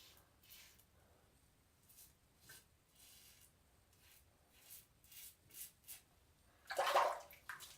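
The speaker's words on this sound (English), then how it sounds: "I'm rinsing in a bowl, a sink filled with cold water." A razor is rinsed in a sink of cold water during a wet shave, giving quiet, intermittent swishing and dripping sounds, with a louder splash near the end and no talking.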